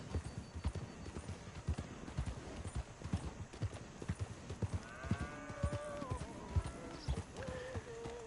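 Horse hooves clip-clop steadily at a riding pace in Red Dead Redemption 2, loud and close, with a faint whinny and a voice talking over the later part.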